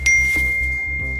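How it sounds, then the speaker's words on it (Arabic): A telephone rings indoors with a steady, bright electronic tone, pulsing in a quick repeating pattern over a low background hum. "ليكو التليفون عم برن"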